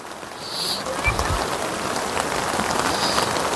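Rain falls at a riverside campground in Sentul, Bogor, a dense steady hiss of drops close by, with a brief low thump near the start and faint higher chirps in the background.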